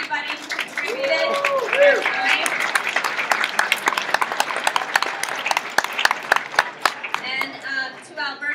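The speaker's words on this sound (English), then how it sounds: "a round of applause for everybody who contributed" An audience at a design lecture applauds the event's volunteers: a dense, steady patter of many hands clapping that holds for several seconds, with a few voices briefly audible near the start.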